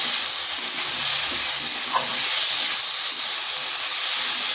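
Onion paste, ginger and garlic sizzle in hot oil, a steady close frying hiss with no pauses and a faint stirring scrape partway through.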